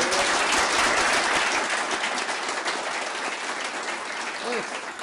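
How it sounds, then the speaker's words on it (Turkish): Strong, sustained audience applause fills a Turkish folk music concert hall, dense clapping holding steady and tapering slightly toward the end. "Şimdi kuvvetli bir alkış alalım."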